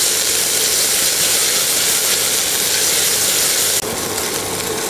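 Chopped onion sizzles steadily in a hot pan while it is sautéed, giving a loud, continuous broadband hiss with a slight drop in level near the end.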